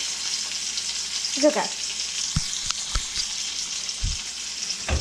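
Small creek bass fry in a pan over low heat, giving a steady broadband sizzle throughout with a few soft clinks and knocks of the pan; a voice speaks briefly near the start.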